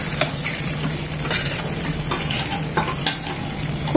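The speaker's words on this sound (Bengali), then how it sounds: "তেলটা গরম হয়ে এসেছে, দিয়ে দিচ্ছি মাছগুলো।" Katla fish frying in plenty of hot soybean oil crackles and sizzles continuously up close, with a few light utensil clicks and stirring sounds against the pan.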